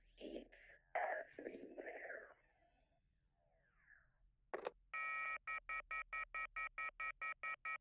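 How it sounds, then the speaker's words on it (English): Quiet murmuring and a brief burst give way to a loud electronic phone dial tone in the video game YIIK, pulsing in steady, evenly spaced beeps that repeat alone until the end. "the dial tone sound effect still lasts uncannily long if you just leave it on autoplay"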